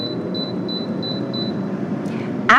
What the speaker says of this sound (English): Turn the air fryer on and then go for 15 minutes.